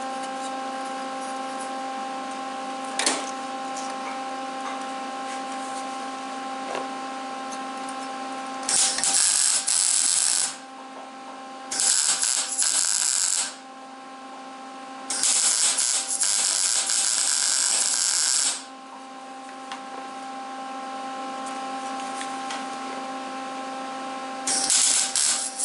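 Short bursts of tack welding on a bevel siding jig for a Woodmizer LT15 sawmill, several separate crackling welds of a few seconds each over a steady electrical hum, close and loud, no talk.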